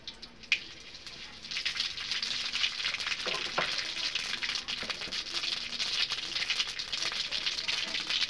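Curry leaves and black mustard seeds hit hot oil in a pan, setting off a loud, close, continuous sizzle with crackling pops that holds steady.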